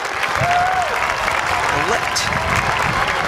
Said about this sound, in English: Everybody's standing up, cheering her on.